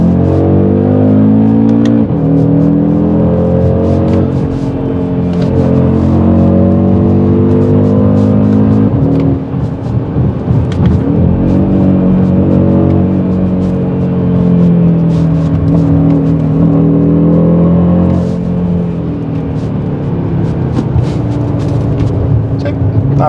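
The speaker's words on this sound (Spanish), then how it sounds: "Ya despidámonos de este motor." A 2023 Audi RS Q3 Sportback engine pulls hard and close, its loud, continuous note climbing in pitch through repeated rising sweeps with brief dips between gears.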